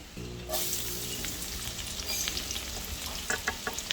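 Garlic, onion and ginger hit hot annatto oil for Ilocano-style bopis, starting with a sudden close sizzle that then settles into steady frying, with light stirring clicks near the end.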